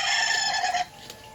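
A free-range village rooster gives one loud, close crow that lasts under a second, then quiet farmyard background follows.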